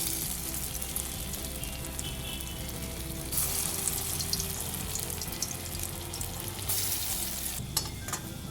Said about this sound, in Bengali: পরের ব্যাচের বড়া কটা আমি এই তেলের মধ্যেই দিয়ে দেবো।